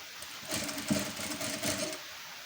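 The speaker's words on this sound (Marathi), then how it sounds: "हे अशा पद्धतीनं पाव इंच धरून शिलाई मारून घ्या" Sewing machine stitching a quarter-inch seam on blouse fabric with lining, a steady close mechanical whirr that starts, runs continuously for about a second and a half, then stops, with no talking.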